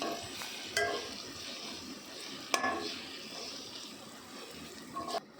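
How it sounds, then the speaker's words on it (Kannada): Tomato and vegetables frying in a pan for Maggi noodles make a soft, continuous sizzle, broken by a few sharp scrapes and clinks of stirring, close up with no talking. "ನೋಡಿ, ಇವಾಗ ಟೊಮೊಟೊನೂ ಕೂಡ ನೀಟಾಗಿ ಫ್ರೈ ಮಾಡ್ಕೊತೀನಿ."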